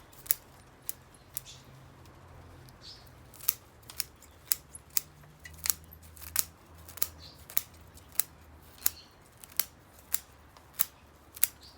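Sharp scissor snips cut through the roots of a trident maple bonsai during repotting, repeating steadily, roughly one per second, close and crisp over a faint low hum, with no talking.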